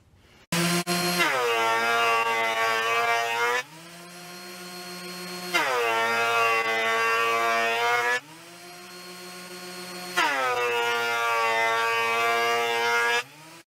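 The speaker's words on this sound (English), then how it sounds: "I ran all of these through the planer" A planer feeding lumber, with three long, loud, steady passes of high-pitched whining cutting and short quieter gaps between them.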